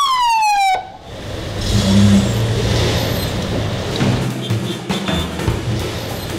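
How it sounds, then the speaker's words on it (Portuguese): A siren wails with a rising-and-falling tone at the start, then cuts off, leaving loud traffic rumble and road noise close by. "onde toca essa sirene"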